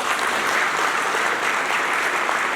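Loud, dense applause from an audience welcoming a provincial council member at a policy forum, a continuous steady clapping throughout.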